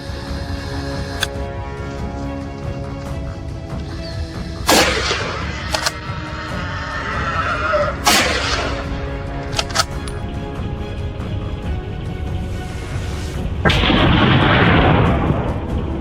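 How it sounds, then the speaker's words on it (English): Several hunters firing together at feral hogs in Texas, loud sharp gunshot cracks, a few spaced blasts with ringing decay and a rushing burst near the end, outdoors. "We agreed to fire all at once to maximize the strike."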